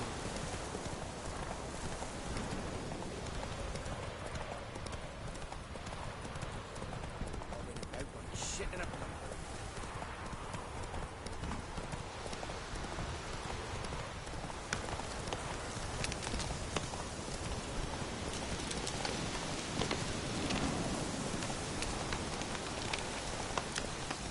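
Roach, the horse in The Witcher 3: Wild Hunt, gallops with a steady clip-clop of hooves over a constant rain-like hiss of game ambience, while a voice talks over it.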